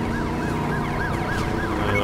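Police car sirens from the Driver San Francisco video game wail in a fast repeating up-and-down cycle over a steady engine rumble, loud and continuous throughout, with no talking.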